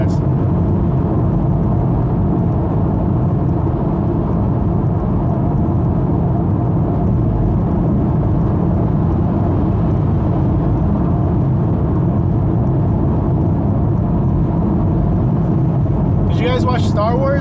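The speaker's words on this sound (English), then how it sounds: "I am driving highway right now, and the road's not that smooth" A car drives along an uneven highway, heard from inside as a constant loud low rumble and road drone that runs throughout while a person talks.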